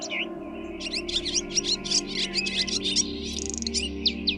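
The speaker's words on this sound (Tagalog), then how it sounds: "kasabay ng tilaok ng manok at huni ng iba't ibang ibon" Birds chirp in quick, bright bursts over a steady low hum on a rural morning, the tweets repeating rapidly and fairly close; no rooster crow stands out.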